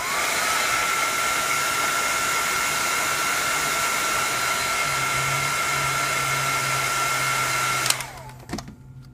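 A heat tool blows hot air steadily on a Samsung Galaxy S5 screen, a close whirring fan hiss with a high whine that cuts off near the end, followed by faint handling clicks.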